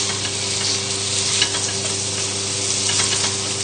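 Pork pieces brown in hot oil in a pan, giving a dense, continuous sizzle with small crackles and a low steady hum beneath, close and evenly loud throughout.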